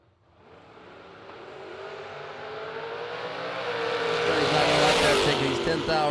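Drag race cars, a Vega and a Roadster, launch side by side down the strip; engine roar builds from quiet to a loud, sustained rising howl as they accelerate away.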